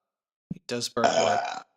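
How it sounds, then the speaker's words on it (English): A man lets out a loud, drawn-out burp up close, preceded by a brief vocal sound, in a quiet room. "I burp, you listen. He does burp a lot."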